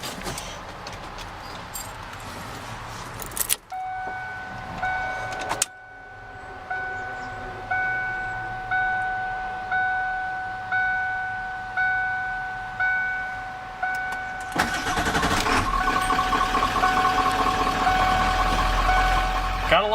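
Inside a 1994 Ford F-150 XLT with a 7.3 L diesel, a warning chime pulses steadily for several seconds. Near the end the engine cranks and catches into a loud, continuous diesel rumble.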